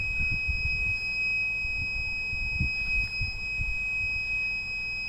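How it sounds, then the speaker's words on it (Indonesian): A steady high electronic tone from a rain detector alarm buzzes continuously, with low muffled rumbles and handling noise beneath it. "Ini alarm bahwasanya hujan turun"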